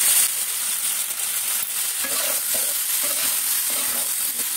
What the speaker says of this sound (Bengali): সবজিগুলো ভেজে খিচুড়িতে দিয়ে দেবো।